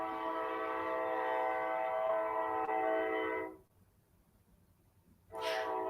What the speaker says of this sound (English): look, there's a train coming